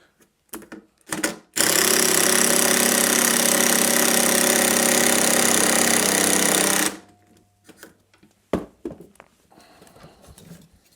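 DeWalt impact driver with a long torsion bit sinking a self-drilling screw all the way through material, one loud continuous rattling hammer burst of about five seconds, close by, with a few handling knocks before and after.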